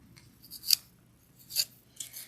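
Acrylic sculptured fingernails are filed in short, scratchy rasping strokes, three distinct bursts spaced apart, close and fairly quiet, with no one talking.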